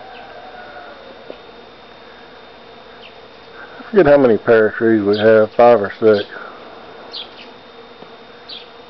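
Bees buzzing around a blooming pear tree in a yard, a soft continuous hum in the background while a person talks briefly over it.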